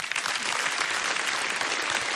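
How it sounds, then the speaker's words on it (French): Applause from a large audience at a Télévie charity concert, a dense, steady wash of clapping that fills the whole stretch at full strength. "tu mérites beaucoup d'applaudissements"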